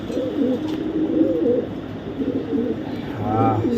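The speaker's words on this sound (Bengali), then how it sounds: "চেকার শ্যাডেল কবুতর মাসাল্লাহ নর কবুতর" A checker shadel male racing pigeon coos in low repeated phrases close by, while someone talks over it almost the whole time.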